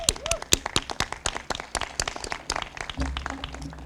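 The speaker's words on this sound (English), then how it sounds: "Let's give everyone a round of applause." A small crowd claps at an outdoor groundbreaking ceremony for a net zero green energy house, with dense, uneven handclaps that thin out toward the end while a low rumble continues underneath.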